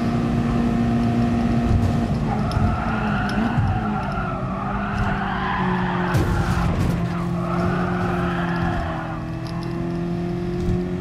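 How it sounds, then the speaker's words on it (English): Gran Turismo Sport race car braking hard late into a corner, a loud sustained tire skid and squeal over the revving engine, steady and close throughout. "Slammed on the brakes a bit late though"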